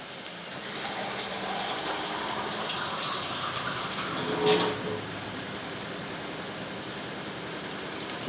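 Water is poured into a pot for cooking dal, a soft, continuous gushing pour close by that swells briefly midway and then settles, with no talking.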